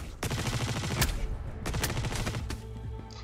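Rapid bursts of enemy gunfire in the sci-fi shooter game Star Citizen, during a bounty mission at a Hurston location, with several loud volleys crackling close by over a steady rumble.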